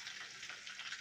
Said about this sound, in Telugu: తర్వాత కొంచెం కరివేపాకు వేసుకోవాలి, కొంచెం అల్లం వెల్లుల్లి పేస్ట్,